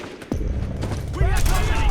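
Gunfire in the video game Metal Gear Solid 4: a sharp burst starts a dense, loud stretch of shots and mechanical clatter mixed with game sound effects.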